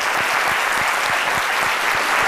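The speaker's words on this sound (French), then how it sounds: "nous allons nous lever pour vous faire un tonnerre d'applaudissements" Studio audience clapping, a dense, loud, steady round of applause filling the room with no voices on top.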